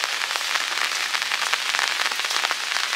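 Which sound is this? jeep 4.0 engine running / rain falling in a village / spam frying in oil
rain falling in a village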